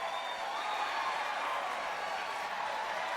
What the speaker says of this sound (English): There was a sudden cheer below me. It was so loud it sounded like an earthquake.